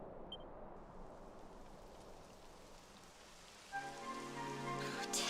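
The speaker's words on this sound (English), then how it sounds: "It would have to go and start raining, wouldn't it?" Steady rainfall hisses in the Dragon Quest 11 video game, a soft, even wash of rain that continues throughout, joined near the end by a brighter, tonal music-like sound.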